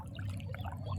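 Water runs and trickles through a farm field, a soft, close gurgle with small bubbling splashes over a faint low background rumble, no voices.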